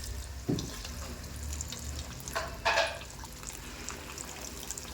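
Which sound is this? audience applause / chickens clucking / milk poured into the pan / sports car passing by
milk poured into the pan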